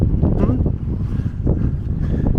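Strong wind buffets the microphone in a steady low roar, with faint voices mixed in underneath, at a high lookout point by the new high school in Visavada village.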